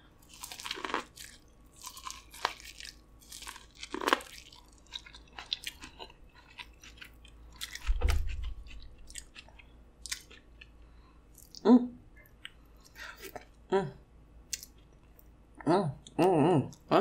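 Someone eats spicy king crab and corn close to the mic. Scattered crunches, clicks and wet chewing come in bursts with quiet gaps between them, and short bits of talk are mixed in.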